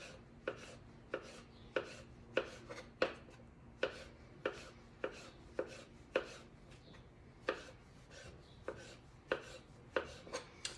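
A knife slices mushrooms on a cutting board with steady, evenly spaced chops, close and fairly quiet, with no voices.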